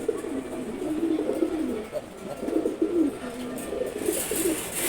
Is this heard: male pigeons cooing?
yes